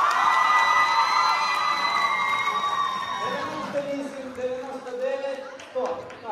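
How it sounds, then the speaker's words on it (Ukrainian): A student audience at a university freshman arts festival show cheers and whoops loudly with high sustained shouts, then the cheering subsides into scattered voices and claps. "Підтримайте оваціями!"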